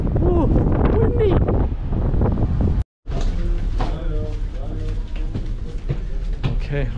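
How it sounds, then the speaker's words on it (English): Strong wind buffets the microphone on the open sun deck of a cruise ship sailing the Baltic Sea, a steady loud rumble with a brief dropout midway, while people talk over it. "Ooh, windy."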